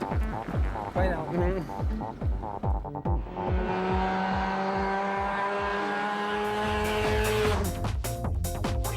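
A 650 brake horsepower automatic car accelerating hard with tire squeal, its engine note rising through the revs and then holding a sustained high-pitched screech, loud and close.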